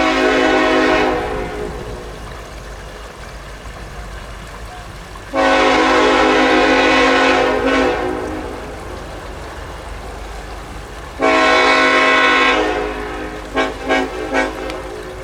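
Norfolk Southern locomotive 1067, leading train P98, sounds its horn in three long, loud blasts separated by stretches of rumbling train noise, ending with a few short clanks.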